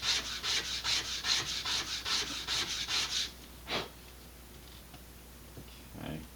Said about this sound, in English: I'm going to sand the root edge, part that gets glued to the rocket. Sand that flat.